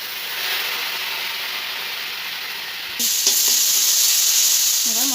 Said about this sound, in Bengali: এবার মশলাটাকে আলুর সঙ্গে ভেজে নেব